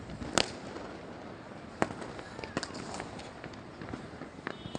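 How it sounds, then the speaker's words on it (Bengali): Distant New Year fireworks popping and crackling at irregular intervals, several sharp bangs over a low outdoor background from a rooftop. "দুই সালকে আমরা বরণ করে নিচ্ছি আতশবাজি জ্বালানোর মধ্য দিয়ে"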